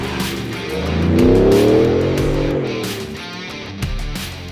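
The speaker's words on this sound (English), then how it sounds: "push that right pedal and it charges hard" A Ford Shelby F-150 Super Snake truck accelerates hard, its engine note rising and swelling loudly before easing off. A brief thump comes near the end, with no talking over it.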